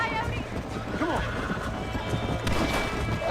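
A horse neighs and whinnies amid hooves clip-clopping in the Red Dead Redemption game, loud and continuous over a busy mix of game sound and a voice.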